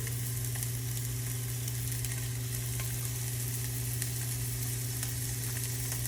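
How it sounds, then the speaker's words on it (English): Pork sausage broken into small pieces fries and browns in a pan, a steady close crackling sizzle with a constant low hum beneath, alone without talk. "we're gonna kind of break it up into little pieces as it cooks"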